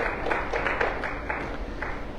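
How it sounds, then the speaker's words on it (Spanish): Church congregation applauding during a Sunday service, a soft, fairly distant patter of clapping from many hands that fades unevenly over a couple of seconds. "démosles un aplauso fuerte al Señor"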